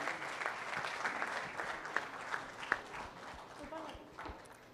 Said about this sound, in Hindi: जोरदार तालियां हो जाए प्लीज उनके लिए